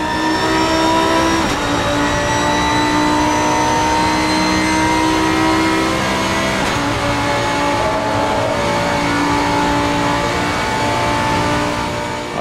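Race car engine in the Assetto Corsa video game, GT-M car on a full flying lap with reduced traction control, revving loudly and alone, pitch climbing through gears with brief shift dips between long rising pulls.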